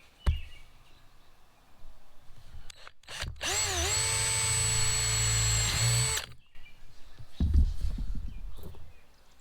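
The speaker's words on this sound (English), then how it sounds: "And then I finished drilling it." A power drill bores holes for a Camco roof vent cover bracket on a Coleman Lantern LT 17B travel trailer roof. It gives one steady, loud whine of about three seconds, with quieter knocks and handling noises before and after.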